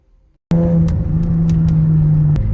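A 2008 Infiniti G37 with the 5-speed automatic and an Ecutek tune cuts in abruptly after a brief quiet moment, then drones loudly and steadily on the move, its engine tone holding level with a slight shift near the end.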